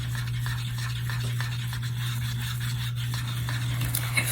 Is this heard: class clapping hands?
no